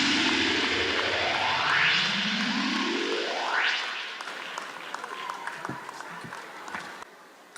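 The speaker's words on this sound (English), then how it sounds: "a big round of applause as he's come off stage for the keynote address" Applause greets a speaker leaving the stage after a keynote address at a formal event, heard as a scattered patter of claps. For the first four seconds it sits under a loud rising, sweeping engine-like whoosh, then it continues more thinly and quietly.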